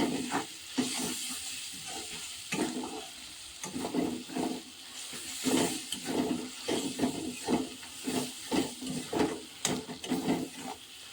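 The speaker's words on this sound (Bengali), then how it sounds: "এবারে নেড়ে নেব। একটু ভেজে নেব।" Spices and onions fry in oil for an egg curry, giving a continuous hiss and sizzle broken by repeated scraping stirs in an uneven rhythm, close and fairly loud, with no talking.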